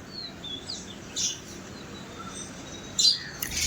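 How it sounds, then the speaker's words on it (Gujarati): Sparrows and mynas chirp in the early morning where scraps of food are scattered, short high tweets coming and going at moderate distance over a quiet background, with a brief louder burst near the end. "અહીંયા તમે જોઈ શકો છો ખિસકોલી ચકલી કાબર"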